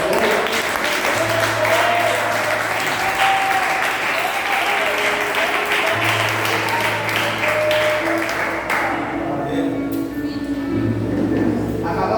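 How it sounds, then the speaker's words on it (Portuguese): A church congregation applauds together, dense sustained clapping filling the room for the whole stretch, with a low organ or keyboard tone sounding in bursts beneath it. "dar uma salva de palmas para Deus por isso"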